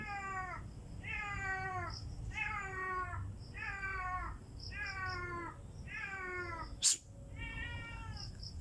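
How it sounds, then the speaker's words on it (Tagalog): A cat meows over and over in a steady rhythm, about once a second, fairly close and clear, with a sharp click near the end and no talk. "yung pusa."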